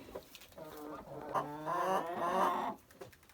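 Hens sitting together in a coop cluck and murmur in a steady, overlapping chorus close by, swelling louder midway before easing off.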